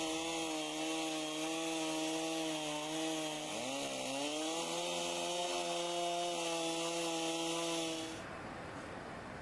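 A Logosol Solosågen M7 chainsaw mill cuts through a log with a loud, steady, buzzing whine. The pitch dips briefly as the blade loads, then the engine cuts off near the end, leaving a faint hiss.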